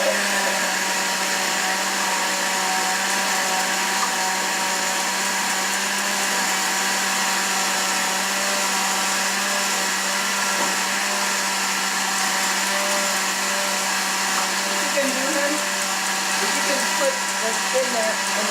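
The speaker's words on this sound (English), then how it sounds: "now that's blending all the chili." Electric blender running continuously, blending chili for tamales, a loud steady motor whir with a constant hum and no pauses, close to the listener.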